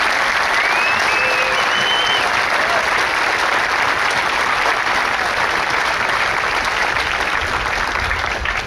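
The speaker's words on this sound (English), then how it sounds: "please join me in a round of applause for our recruiters," Loud, continuous applause from a large crowd at a Marine Corps recruit training graduation ceremony, a thick, unbroken roar of clapping that stays level for the whole stretch, with faint whistle-like tones early on.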